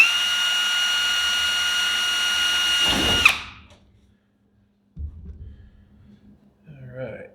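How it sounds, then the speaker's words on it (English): A power drill whines steadily at close range for about three seconds, drilling a hole in an aircraft elevator access cover, then spins down and stops, followed by quiet handling noises and someone speaking. "we can drill the second hole"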